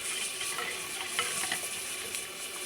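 Tempering spices for dal sizzle steadily in a hot pan, a soft continuous frying hiss with faint clicks of stirring throughout.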